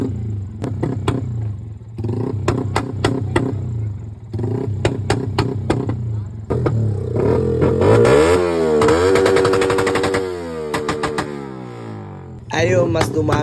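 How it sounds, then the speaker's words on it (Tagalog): Motorcycle exhaust backfiring at a motor show, with repeated sharp popping bursts in clustered rhythmic volleys over a running engine, punctuated by revving, close and loud, with faint crowd voices in the background. "tinginan na naman yung mga tao kasi tumutunog na naman yung backfire"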